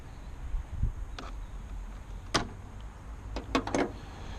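Bonnet of a Ford Fiesta with a 1-litre three-cylinder EcoBoost petrol engine being released and lifted, heard as a few sharp metallic clicks and clunks spaced out over several seconds, fairly close by.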